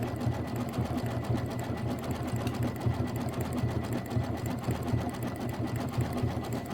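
An embroidery machine stitches out quilt blocks for a mini quilt, a steady fast needle chatter running continuously and evenly at close range.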